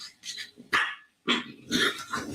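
Puppies bark in short, sharp bursts, several quick yips and barks in an irregular rhythm with brief pauses between, close and fairly loud.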